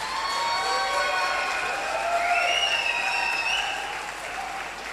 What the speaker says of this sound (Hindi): जबरदस्त ताली बजाइए।